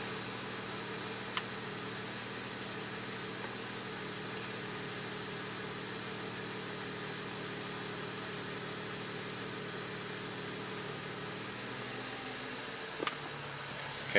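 A 2014 BMW M235i turbo idles with a steady, low, continuous hum and faint mechanical whir, quiet and unchanging for most of the stretch, with a brief shift in tone near the end.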